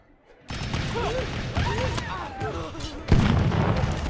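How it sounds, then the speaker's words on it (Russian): Heavy booms and crashing blasts from Totally Accurate Battle Simulator (TABS) fill the clip, with a voice talking over the continuous roar of explosions. "Ох, все взрывается жестко прям."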